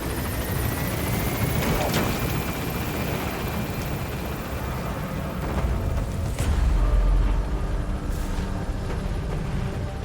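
In Metal Gear Solid V: The Phantom Pain, an extraction helicopter lifts off and gains altitude, a loud continuous rotor roar and whine with a deep rumbling swell partway through.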